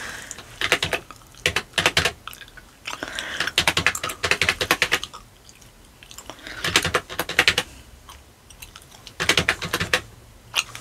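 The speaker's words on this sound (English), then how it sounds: "I got to type in that little number." A number is typed on a computer keyboard in a receptionist setting, heard as bursts of quick clicking keystrokes with short pauses between, close and clear, with no talk.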